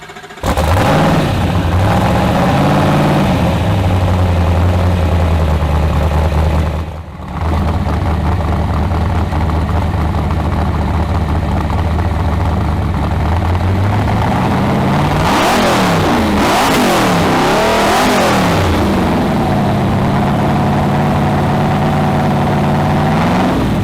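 A V8 car with no catalytic converters from the factory, running straight pipes from the headers back, idles with a deep, loud rumble, then revs hard several times before settling back to idle.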